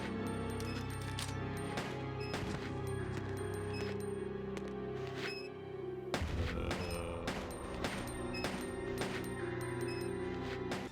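Dense shoot 'em up action from Ikaruga running under Dreamcast emulation on an RK2020 handheld: continuous layered game music with rapid repeating shot blasts and explosions, loud and busy throughout, with a heavier burst of impacts about halfway through.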